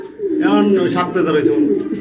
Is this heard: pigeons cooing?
yes